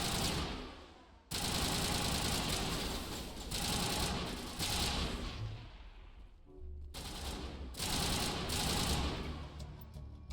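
Dense automatic gunfire from a Mass Effect 1 (Legendary Edition) firefight, loud sustained bursts of shots with short gaps, continuing steadily through the clip with no talk.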